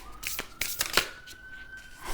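Tarot cards being shuffled by hand, with quick papery riffles and flicks in several short bursts, close and fairly soft, under a faint steady tone.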